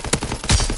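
A few quick gunshots in a video game, short sharp bursts close up with a heavier thump near the middle, over busy game noise.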